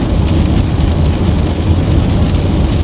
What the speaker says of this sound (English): we are getting a lot of rain